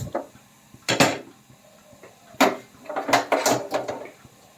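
A metal pan is set down on a stovetop while cooking pan-fried chicken noodles, giving several sharp clanks and scrapes at close range with short pauses between them.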